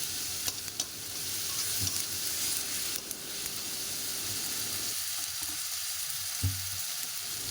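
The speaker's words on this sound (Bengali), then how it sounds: "এবার একটু মিষ্টি দেব, মশলাটা কষিয়ে নেব।" Spice masala sweetened with a little sugar fries in a pan, giving a dense, continuous sizzle with occasional stirring scrapes and knocks, close and fairly loud with no voices.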